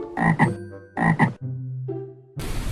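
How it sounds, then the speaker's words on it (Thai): A frog croaking in a few loud, close, throaty bursts, followed by a softer drawn-out croak and a sudden rush of noise at the end. "เสียงกบ"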